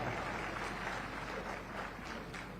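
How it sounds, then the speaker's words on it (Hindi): Applause from an audience at a Mininata Nirvan Diwas commemoration event in Chhattisgarh, a steady, dense wash of clapping that holds evenly at moderate distance for the whole stretch. "एक बार उमन पर ताली बजावा।"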